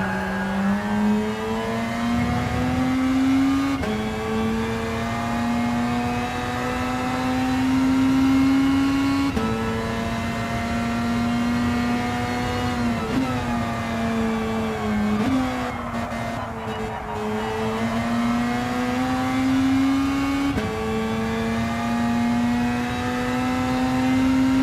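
A GT40 race car engine in a racing video game holds a loud, constant buzzing drone, its pitch climbing and dropping in repeated gear-shift sweeps over a long stretch, with no talking.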